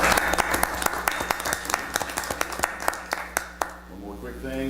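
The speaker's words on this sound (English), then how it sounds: "give yourselves a round of applause" Scattered applause rises at a city council meeting, individual claps sounding distinct and fairly sharp in a large room before tapering off, followed by a voice starting to talk.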